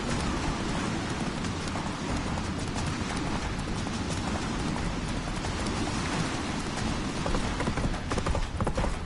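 Hooves of a horse galloping in The Witcher 3 video game, a continuous dense clip-clop drumming under a steady wash of rain-like noise, loud and unbroken throughout.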